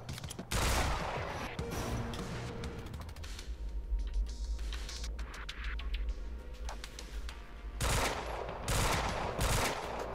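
Rapid bursts of gunfire in the video game Quantum Break, with dense volleys near the start and end and scattered shots between, loud and close over a steady low rumble.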